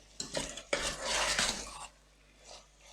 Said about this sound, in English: once we've given it a good old stir